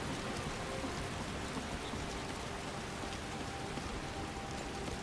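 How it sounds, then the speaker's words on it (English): Steady rain in the game Skyrim pours down as a constant, even hiss of dense droplets with no breaks or other sounds. "Still raining."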